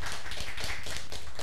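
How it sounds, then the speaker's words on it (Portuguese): A studio audience on a Brazilian TV variety program applauds guest Valdeci, a dense, steady burst of many hands clapping at close range with no break. "Vamos aplaudir o Valdeci"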